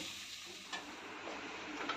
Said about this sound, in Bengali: এটাও ভালো করে একটু ভেজে নেব